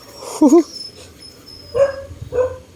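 A dog gives a few short, high whimpers and yelps close by after being bitten by another dog, with brief pauses between them.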